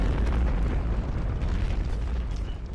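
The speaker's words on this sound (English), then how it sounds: "The bridge was destroyed in a gigantic explosion" A gigantic explosion destroys a bridge packed with troops, wagons and horses during the 1813 Battle of the Nations, heard as a loud, sustained, deep rumbling roar that stays heavy throughout and fades only slightly at the end.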